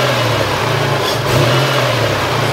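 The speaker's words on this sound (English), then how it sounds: "And now let's see what will happen when you move the throttle" Toyota engine running as the throttle is moved, a loud, close, steady mechanical hum with the engine note lifting slightly midway before settling back.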